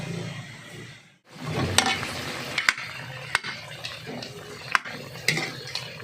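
Chicken tinola ingredients sautéed in fish sauce: a brief hiss as they hit the pan, then a low steady sizzle punctuated by sharp metal utensil clicks against the pot.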